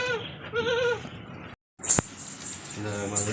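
A goat at a livestock market gives wavering, nasal bleats, one early and another near the end, with a clink of metal and a soft voice between them.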